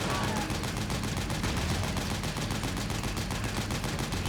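Sustained rapid gunfire in the video game Metal Gear Solid 4, fired at a gate, a dense, loud run of rhythmic bursts with a voice faintly mixed in.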